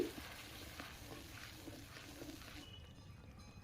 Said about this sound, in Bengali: তারপরে দিচ্ছি স্বাদ মতো লবণ এবং খুন্তি দিয়ে একটু নেড়ে দিচ্ছি